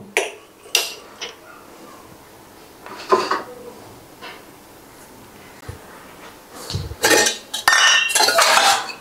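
A kadai cooking pan is set down and handled in a home kitchen, giving a series of sharp metallic clanks and scrapes that are irregular and close, ending in a louder cluster of rattling metal.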